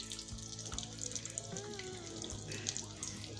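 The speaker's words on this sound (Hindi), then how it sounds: "अभी हो रही है टिक्कियाँ फ्राई" Potato patties (aloo tikki) frying in a pan, a steady close hiss and sizzle of hot oil that holds throughout with no talking.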